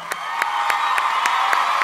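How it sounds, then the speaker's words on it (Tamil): Award-show audience applauding and cheering for actor Nakul, a dense, steady wash of clapping with crowd noise that swells slightly and holds, with no voices standing out. "நக்குளுக்கு பெரிய கைத்தட்டு கொடுங்க"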